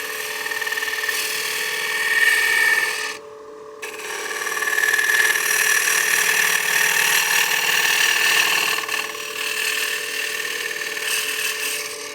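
A 3/8 bowl gouge cutting into a spinning wooden cake stand blank on a lathe: a continuous whining, droning cut with a brief break early on, close and steady.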